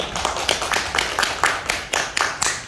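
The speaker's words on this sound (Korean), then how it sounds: "박수 한 번 더 부탁드리고요." Applause from the audience at a May art forum marking the 5·18 anniversary, where a few nearby hands clap in loose, uneven bursts that swell and fade in a rhythmic pattern, fairly close and with no talk over them.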